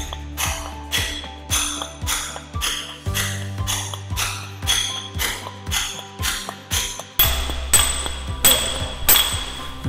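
A stonemason dresses stone with a hammer, striking in a steady, even rhythm of sharp ringing taps, about two per second, close and loud, with the tone shifting partway through.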